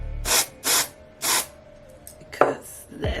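Hair spray is misted onto a brush for styling a Sensationnel Money Maker wig in three short, loud hissing bursts, followed by softer handling and rustling sounds.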